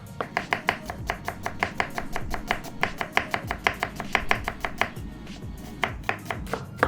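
A knife chops thinly through half an onion on a board, a fast, steady run of crisp close taps, roughly four to five per second with a few brief pauses, no talk.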